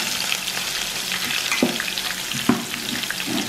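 Curry leaves and onion frying in hot oil, a close crackling sizzle with a couple of sharp stirring clacks from the pan.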